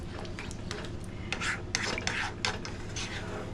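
A spoon working through Cajun spaghetti in a pot, scraping and rasping against the metal in uneven strokes, close and fairly quiet with a few louder scrapes near the middle.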